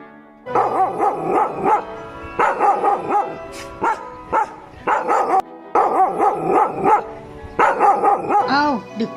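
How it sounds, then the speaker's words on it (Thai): A cartoon dog barks in repeated bursts, loud and close, with short yips and a whimpering tail at the end, no talking over it. "ด็อกกี้แกเห่าอะไรอะ่ะ"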